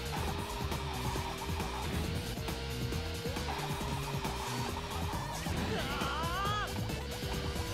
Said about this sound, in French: La belle accélération grâce au drift!